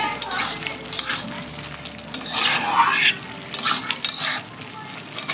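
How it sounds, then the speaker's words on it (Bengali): Spinach curry stirred in a pan at close range, with repeated scraping, rubbing strokes of a utensil against the pan over a light sizzle and no talking. "এই যে এখন সবজিটা আমি নেড়ে নিচ্ছি"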